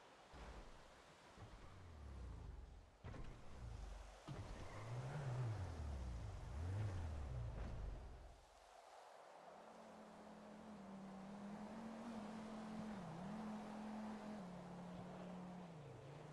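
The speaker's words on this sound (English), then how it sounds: "I heard a car." A car in a video game roleplay driving past, its engine rising and falling in pitch as it revs and approaches, then settling into a steady hum as it cruises on, fairly faint overall.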